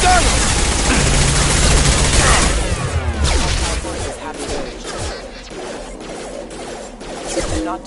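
Gunfire in the Mass Effect 2 video game, a loud burst of rapid shots and crashing impacts at the start, thinning into scattered shots and clatter that trail off.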